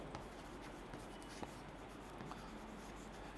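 A pen scratches faintly across paper while a maths question is written out, soft intermittent strokes over a steady background hiss.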